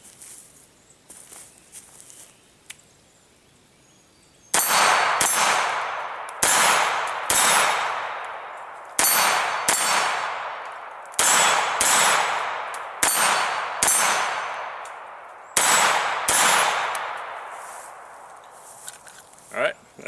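A CZ-82 pistol fires about eleven loud, sharp shots outdoors in an irregular rhythm, each crack followed by a ringing decay, after a quieter lead-in with faint shuffling.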